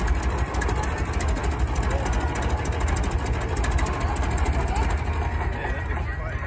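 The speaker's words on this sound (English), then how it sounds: "It's like a stationary engine, really." A 1916 Buick engine idles close by with a dense, even chug throughout, sounding slightly rattly and mechanical.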